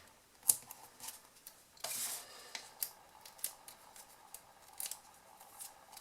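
Scissors snip through card while a surprise fold box is made, a series of quiet, crisp close-up cuts spaced irregularly, with soft rustling between them.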